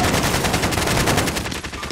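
Rapid automatic gunfire from Call of Duty Warzone, a loud, dense stream of shots with no gaps, running steadily for about two seconds with no voices.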